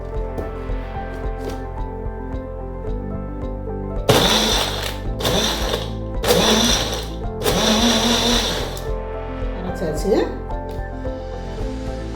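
A blender grinds banana milkshake with ice in several loud whirring bursts separated by pauses, over a steady hum, with a voice speaking in the background.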